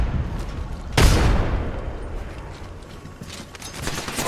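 A frag grenade explodes in a shooter game, one sharp, loud blast followed by a long fading rumble, with faint game noise around it.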